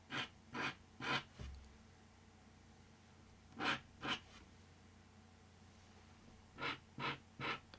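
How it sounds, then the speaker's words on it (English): A craft knife scrapes colored pencil off paper to make highlights, giving short raspy strokes in groups of three or four, close and quiet, with pauses between the groups. "Some people really like the sound of scraping like this"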